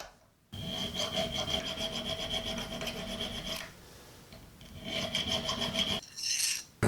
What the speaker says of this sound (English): with just a little bit of filing, this already goes quite a bit farther up the tang